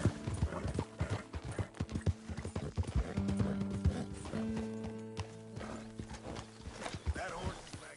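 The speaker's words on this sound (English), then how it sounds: "That horse is magnificent." In the Red Dead Redemption video game, a horse's hooves clip-clop in an uneven walking rhythm with a neigh partway through, accompanied by creaking tack and game music under voices talking.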